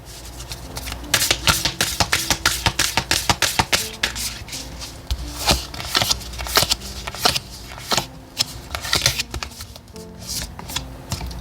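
Oracle cards shuffled by hand for a tarot reading, a rapid run of crisp riffling slaps and soft card clicks repeating close by, with no talking.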